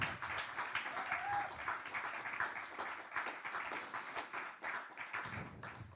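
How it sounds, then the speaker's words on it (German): Church audience applauding at a Sunday service, a steady wash of many hands clapping at moderate distance that holds for the full stretch without voices on top. "danke vielmals dir und einen herzlichen Applaus"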